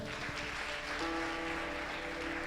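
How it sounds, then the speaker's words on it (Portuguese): Church congregation applause at a discipleship sermon, a dense, even patter of clapping that holds steady throughout, with a faint tonal hum underneath. "Um aplauso ao Senhor."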